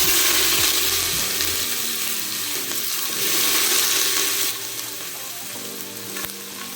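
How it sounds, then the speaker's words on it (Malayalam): Thinly sliced onions drop into hot oil for egg biryani, a loud burst of frying that settles into a dense, close crackling sizzle, with a brief clatter near the end. "ഇനി ഇതിലേക്ക് കനം കുറച്ചരിഞ്ഞ സവാള ചേർത്ത് കൊടുക്കാം."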